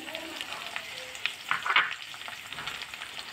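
Eggplant drops into a frying pan of mixed vegetables for a traditional Bhogi Sankranti bhaji, giving a low steady sizzle with a couple of brief louder crackles near the middle.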